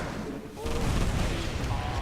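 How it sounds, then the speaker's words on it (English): Terran air-to-air missiles fire in StarCraft 2, a dense rumbling barrage of booming launches and impacts that swells after a brief lull, with a voice talking over it. "And this is their air-to-air missile, or ground-to-air missiles."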